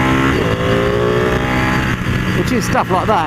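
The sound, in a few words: Ducati Panigale motorcycle accelerating away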